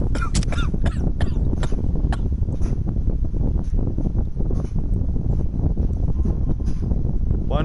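Repeated harsh coughing from a sick coal miner with coal-dust-damaged lungs, in sharp bursts over steady wind-like background noise, with brief talk.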